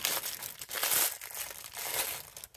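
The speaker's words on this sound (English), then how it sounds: "So we've got to figure out how to unwrap this in a safe manner." Plastic wrapping crinkled and torn off a karambit knife, a close, continuous rustling and crackling that swells and fades in waves, with no talk over it.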